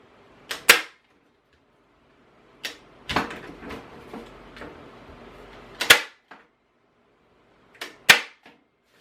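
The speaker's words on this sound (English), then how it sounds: "so now I can just go ahead and staple them." Popsicle sticks being stapled together for a lighted wall or floor sign, with loud, close, sharp staple snaps spaced a few seconds apart, some with a short follow-up click, and quiet between.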